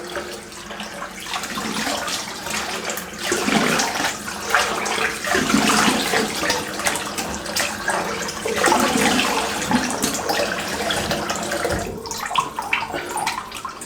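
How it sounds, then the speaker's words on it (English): Running water at a bathroom sink as a face is rinsed with cold water after a shave, a steady splashing flow with irregular surges and splashes of hands scooping water throughout. "I'll have a quick rinse with cold water."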